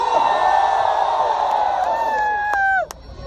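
A large concert crowd in Liverpool roars with cheering, whoops and high screams in a steady, loud wash that fades out abruptly near the end.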